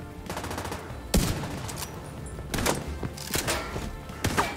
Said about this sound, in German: Ich schieße dir einen Arm, Mann.